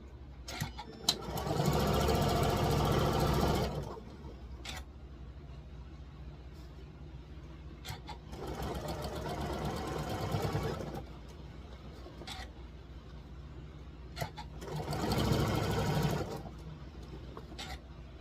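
A sewing machine stitches seams on a quilt granny square block in three sustained bursts of steady whirring, separated by quieter pauses with small handling clicks.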